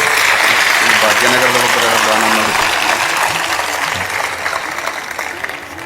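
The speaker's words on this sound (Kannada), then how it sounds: "ಒಂದು ಚಪ್ಪಾಳೆ ತಟ್ಟಿ" An audience at a spiritual gathering breaks into steady, dense clapping for an honoured mother and her family, gradually tapering off while a voice speaks faintly over it.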